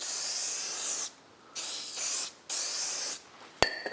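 Degreaser sprayed onto the brake disc of a Formula Konig race car in three long close hissing bursts with short gaps, ending with a single sharp metallic tap.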